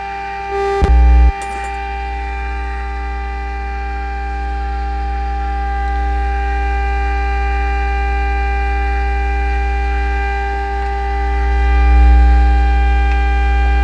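A Muller motor runs at close to 3000 rpm, giving a steady deep electrical hum with faint high tonal whines, a brief sharp clatter near the start, then a slight swell in loudness toward the end.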